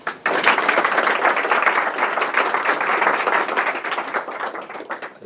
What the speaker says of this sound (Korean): 다시 한번 뜨거운 박수로 강연을 시작하겠습니다